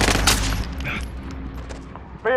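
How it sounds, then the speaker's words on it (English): Gunfire bursts in the Call of Duty: Modern Warfare video game, with a loud opening volley that settles into scattered rattling shots and distant booms, and a sharp final crack near the end. "Rounds incoming. I'm taking fire!"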